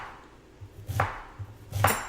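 Knife chopping onion on a cutting board: two separate firm chops about a second apart, each a sharp thud with a bright click, fairly close with quiet room tone in between and no talk.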